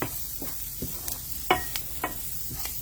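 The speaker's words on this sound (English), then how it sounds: "and stir fry it" Okra stir frying with garlic, lemon juice and salt in an Indian home kitchen, a gentle sizzle punctuated by several sharp scrapes and taps of a spatula in the pan, close and without speech.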